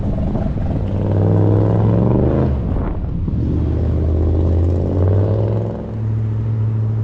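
A custom 1959 Chevy Apache truck with an extremely loud engine runs rough, a heavy close rumble that dips and surges unevenly, sagging briefly near the end before picking back up, with no talk.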